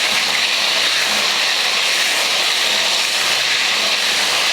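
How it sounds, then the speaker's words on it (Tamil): Brinjal (eggplant) pieces frying in hot oil give off a steady, loud, even sizzling hiss that runs unbroken the whole time, with no voices over it. "இதில் கத்திரிக்காயை போட்டு பொரிச்சு எடுத்துக்கலாம்."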